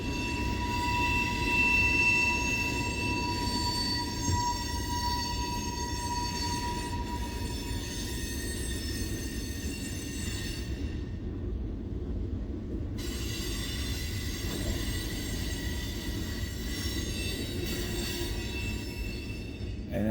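An eastbound freight train with Norfolk Southern power rolls steadily past at close range, its wheels rumbling and squealing continuously on the rails for the whole stretch, with no rear distributed power unit at the end.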